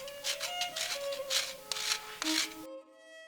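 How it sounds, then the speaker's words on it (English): A bar of olive oil Castile soap is grated by hand in quick, soft rasping strokes, close and quiet, before falling silent. "I'm going to begin by grating the Castile soap."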